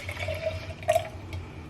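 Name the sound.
liquid being poured into a container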